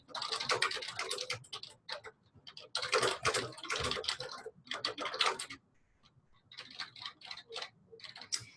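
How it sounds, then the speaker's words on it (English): Typing on a computer keyboard while entering a property listing: fast, dense bursts of close key clicks with brief pauses between runs. "I'm gonna go ahead and type those in."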